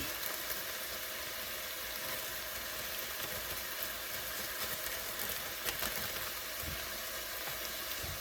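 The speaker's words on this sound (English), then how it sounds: "And then I'm going to add in my ginger, which has also been chopped." Chopped ginger sizzles in a pot for peanut soup, a faint, steady broadband frying hiss with small crackles, continuous and without speech.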